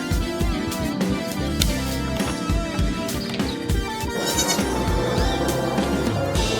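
Goats, including pregnant females, bleat repeatedly over a busy, dense background of farmyard noise on a Japanese farm, with overlapping calls that continue steadily and fairly loudly throughout.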